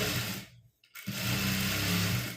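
A sewing machine runs steadily while stitching the opening of a top, stopping briefly for about half a second before resuming at the same steady whirr. No talking.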